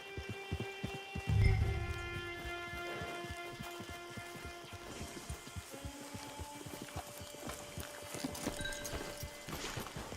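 Steady clip-clop of horse hooves trotting along in Red Dead Redemption 2 Online, with rain-like patter and a tonal musical drone underneath; hoofbeats fairly close and continuous.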